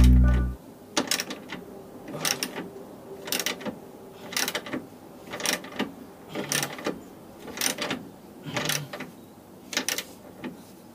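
A hand ratchet tightens the suspension control arm bolts on a car, its clicking strokes sped up into a fast, regular series of sharp mechanical bursts, close by with no talking.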